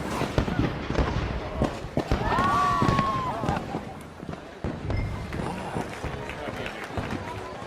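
Fireworks in the video game Red Dead Redemption 2 pop and crackle in repeated bursts amid a noisy crowd scene, with footsteps, a rising whistle-like tone and someone speaking briefly.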